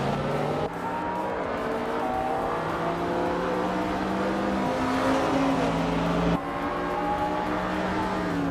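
Racing cars, including a 2003 Ferrari 360 CS, in a video game race, engines droning and revving continuously with shifting pitch and faint tire noise, loud and close throughout.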